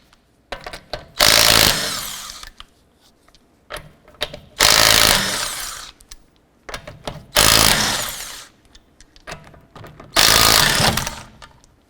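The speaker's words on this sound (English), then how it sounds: "Using a 19mm socket, let's go ahead and remove our lug nuts." A 19mm socket on a power tool removes lug nuts from a 2008-2012 Honda Accord, giving four loud, close whirring bursts about a second each, separated by quieter clicks and handling noise.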